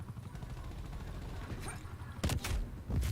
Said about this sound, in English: Oh, the little helicopter got me.